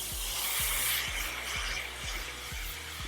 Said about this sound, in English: We are gonna smooth out with our finishing spray. I'm using Big Sexy Hair.